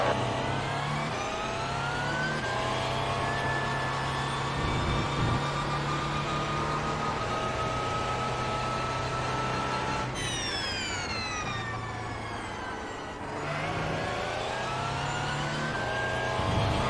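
Race car engines at Silverstone in a sim racing game drone loud and steady, the pitch climbing through gears, with one sharp upshift and another car's engine passing close by.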